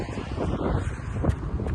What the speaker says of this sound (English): Oh, so windy, guys, today.